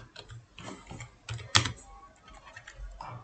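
Someone types a website search into a computer keyboard, a brisk run of close key clicks with one louder tap partway through.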